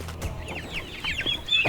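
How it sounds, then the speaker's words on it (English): Several chickens clucking inside a homemade chicken tractor on a homestead, a quick overlapping burst of close, lively clucks and squawks lasting under two seconds. "this new chicken tractor that I built, I have even more birds"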